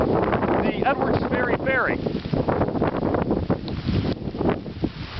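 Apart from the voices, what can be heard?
heavy wind buffeting during Hurricane Sandy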